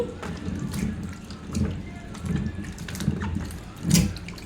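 Running water splashes and sloshes as food is rinsed in a kitchen, with uneven bursts of washing close by.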